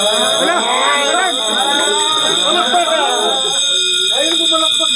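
A steady high-pitched electronic alarm beeps continuously throughout, holding a constant tone while several people talk and react loudly over it.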